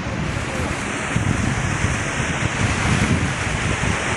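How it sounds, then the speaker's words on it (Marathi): A waterfall and the stream flowing above it at the Ranjankhalge rock potholes in Javali make a steady, dense rush of water that fills the whole stretch, loud and close, with no voices. "आपण बघू शकता हा एक धबधबा"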